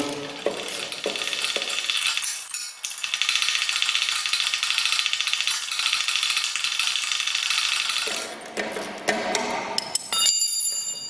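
Two 17 mm spanners work a nut loose on a Chapman ATV flail mower, giving a run of metallic ticking and rattling clicks that settles into a dense, steady stretch before ending in a few sharper separate knocks.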